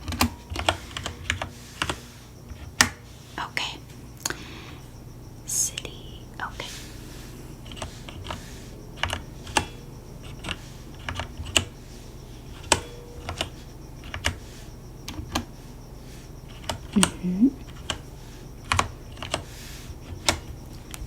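Slow typing on a computer keyboard: scattered, unhurried key taps and clicks spaced irregularly over a quiet room, close and soft, with occasional faint whispering between strokes.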